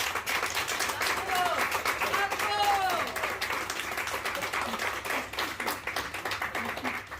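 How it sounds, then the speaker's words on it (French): A restaurant crowd in Tourcoing gives steady, continuous applause for staff member Amel, dense clapping close by with voices and cheers mixed in throughout. "Je vous demande d'applaudir et je vous demande qu'elle vienne."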